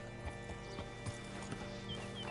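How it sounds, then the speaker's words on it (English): Horse hooves clip-clop steadily in Red Dead Redemption 2, a string of close, evenly spaced footfalls over a dense game soundscape, with a faint whinny-like tone near the end. "Hitch your horse up here."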